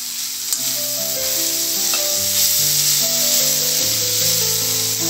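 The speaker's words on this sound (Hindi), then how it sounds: "अब इसको हल्का सा भूनेंगे" Grated carrot and finely chopped capsicum sautéing in a pan, a steady close sizzle with faint stirring, while background music plays throughout.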